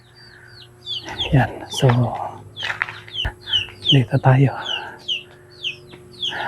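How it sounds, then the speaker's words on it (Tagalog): Chickens cluck and squawk repeatedly nearby in an uneven rhythm, while someone speaks briefly over them. "May mga manok."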